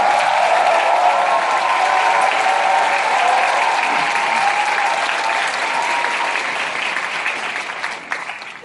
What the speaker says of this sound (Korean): 목사님 나오실 때 큰 박수와 환호로 맞이하도록 하겠습니다